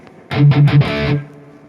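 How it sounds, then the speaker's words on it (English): A high-gain distorted electric guitar patch on a Valeton GP200 with a light room reverb: a few loud, choppy chugs, then a sustained chord that rings out and fades into a short reverb tail. "We have a little bit of a room reverb."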